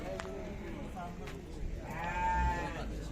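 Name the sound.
lambs and sheep bleating at a livestock market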